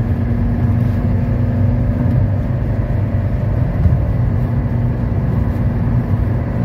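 A 1985 Mercedes 300CD accelerating as it merges onto a highway, a steady low engine drone with road and wind rumble holding even and loud throughout, no talk.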